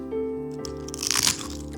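Crispy snack bitten near the mic, giving a loud, short crunch and crackle with no talk over it.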